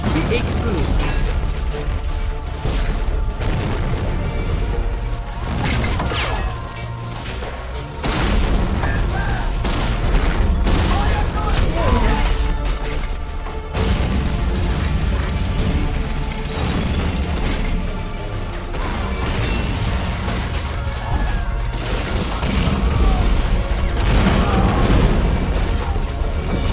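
Steady bursts of gunfire and heavy explosions from a Soviet campaign battle in the Men of War war strategy game, loud and dense throughout with repeated booms and crashes.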